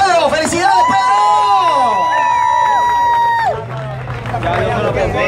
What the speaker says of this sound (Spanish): Quiero que le demos un fuerte aplauso adicional a Pedro Santana porque está de cumpleaños